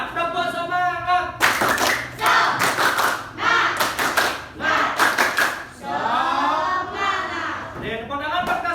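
Students in a classroom lesson do a rhythmic spirit clap, bursts of patterned clapping between chanted shouts and voices, close and lively with short pauses between phrases.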